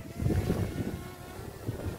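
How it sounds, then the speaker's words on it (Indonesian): Strong gusting wind buffets the microphone as a drone flies outdoors, a steady low roar with rough surges throughout, no voices. "Wow, kenceng lagi anginnya."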